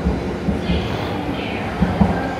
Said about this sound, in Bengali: শিনকানসেন মনে হয় একটা আসলো, দেখি